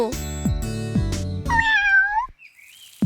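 A cartoon kitten meows several times in a row, loud, high and close, each cry clearly separated. The final cry rises and wavers before a brief silence, and no one speaks.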